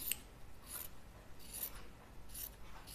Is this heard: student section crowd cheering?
no